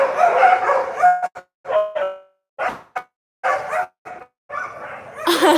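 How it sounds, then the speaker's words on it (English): Stray dogs bark outside at night, a series of sharp, separate barks and yips with short silences between them, fairly close and loud, with no talk over them. "These are stray dogs."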